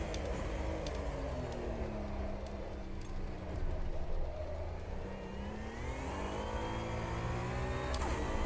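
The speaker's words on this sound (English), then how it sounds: "The glorious sound of GT1s." GT1 race cars roaring around Old Hockenheim in the Automobilista 2 racing game, several engines revving and shifting with rising and falling pitch sweeps, loud and continuous with no talk.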